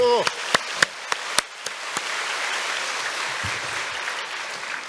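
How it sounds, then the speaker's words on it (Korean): A few loud, separate claps open, then a congregation in a church service breaks into sustained applause that fills the room as an even, dense patter, with a brief voice near the start. "박수."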